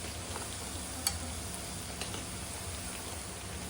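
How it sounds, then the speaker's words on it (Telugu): Ginger garlic paste frying on low heat for a spicy chicken pickle, a steady soft sizzle with a couple of faint stirring clicks, close and even throughout. "అల్లం వెల్లుల్లి పేస్ట్ పచ్చి వాసన పోయే వరకు జాగ్రత్తగా సిమ్లో పెట్టి జాగ్రత్తగా వేపాలండి"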